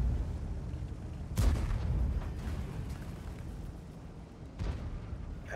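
Gunfire bursts in a shooter video game, two sharp broadband blasts standing out over a steady low rumble of game noise, the first around mid-clip start and a second near the end.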